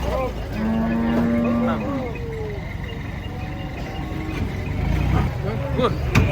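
A jumbo Limousin bull gives a loud, close moo near the start as cattle are unloaded from a full truck, followed by softer lowing and background voices and truck noise.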